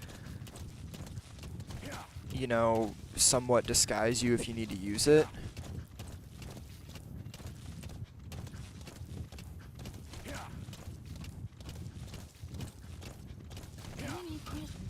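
A horse in Metal Gear Solid V gallops with rhythmic clip-clopping hooves under steady talking, joined around the middle by a loud whinny that rises and falls before the hoofbeats carry on beneath the voice.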